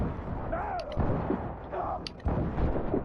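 A ship's puckle gun fires in the video game Assassin's Creed Rogue, a few heavy booming shots with rumbling blasts over constant sea and battle noise, loud and close.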